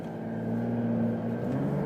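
A Porsche 911 Dakar accelerating out of a corner, heard from inside as a steady droning engine note that rises slightly in pitch, with continuous road and tire rumble beneath.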